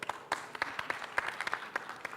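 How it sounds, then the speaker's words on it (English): Audience applause at a cybersecurity symposium in Indonesia, a short burst of scattered clapping from a crowd, fairly distant and thin, with individual claps standing out. "Let's give him a round of a big applause."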